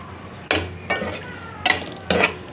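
Boiled potatoes being stirred into masala in a pan, four distinct scraping, clattering strokes of a spoon against the pan at a slow, uneven rhythm, with a faint sizzle underneath.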